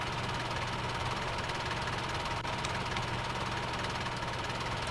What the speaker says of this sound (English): I'll rev it up again